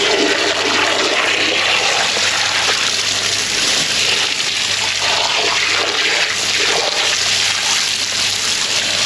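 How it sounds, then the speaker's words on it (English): A toilet flushing during a drain-unblocking job at a restaurant, a steady loud rushing gush of water that holds for several seconds without letting up. "You go ahead and flush that out."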